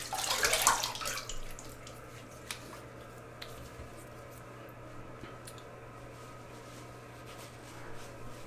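A Gillette Sensor razor rinsed under a running tap, a brief close splash and gush of water in the first second, then faint taps and drips over a steady low hum, with no talking.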